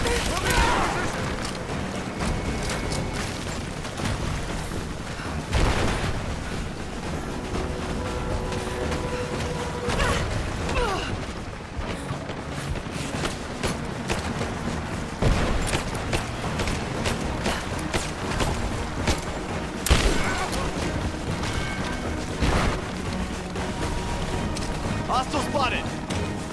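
Gunfire rattles through a firefight in Rise of the Tomb Raider, bursts and shots piling up steadily alongside crashes and mechanical clatter, with voices shouting over the game action.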